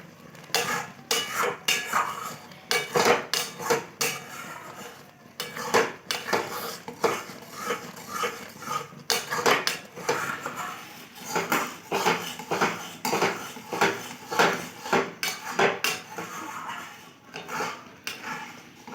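A utensil repeatedly scrapes and knocks against a metal pot while a thickening fruit mixture is stirred and beaten, giving sharp irregular clacks in quick bursts with brief pauses, close and fairly loud.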